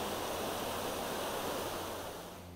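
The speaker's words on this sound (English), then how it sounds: "just crossing over Soda Creek" Soda Creek flows as a steady, broadband rush of water, loud and close, fading slightly at the end with no one talking.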